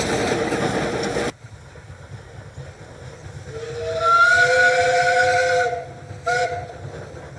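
Steam locomotive Chaka's Kraal sounds its whistle as a warning at a country road crossing: one long, loud, steady blast followed by a short second toot, over rumbling train noise.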